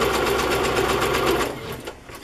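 Sewing machine stitching a fabric pocket with red thread, a close, steady rapid whir of the needle that winds down and stops near the end of a brief burst.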